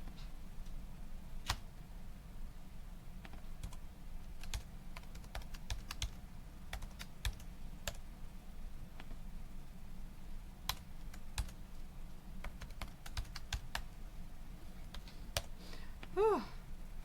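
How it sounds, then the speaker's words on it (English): Keys on a computer keyboard are typed in an uneven run of light, sharp clicks over a quiet room hum, soft and close, with a faint breath or voice sound near the end. "And I'm going to type it all in one go."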